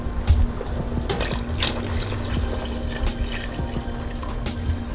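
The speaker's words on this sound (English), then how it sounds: "I'm going to pour the stock." Chicken stock pours into a pot for chicken noodle soup, a continuous close trickling and splashing of liquid with a low steady hum in the background and no speech.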